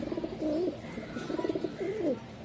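A male Kaldom pigeon coos close by in a short run of rolling, throaty phrases, alone and clear.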